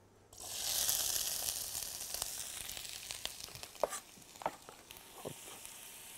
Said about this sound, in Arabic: مع فلفل الالوان هيتحطوا في الزيت الاول، يبتدوا يطروا سنه